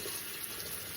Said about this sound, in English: you're gonna wash off your potatoes really good